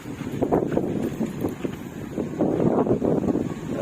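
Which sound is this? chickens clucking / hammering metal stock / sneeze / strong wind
strong wind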